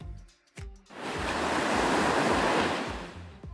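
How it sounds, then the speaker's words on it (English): Ocean surf on a beach, a broad roaring rush of breaking waves that swells up after a brief quiet start and holds loud and steady before easing off at the end. "If you give it a picture of a beach, it can find the sound of waves."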